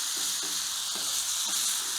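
Bacon sizzles steadily on a Breeo campfire fire pit, a close, continuous crackling hiss with a few faint scrapes.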